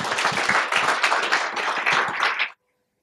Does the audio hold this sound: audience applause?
yes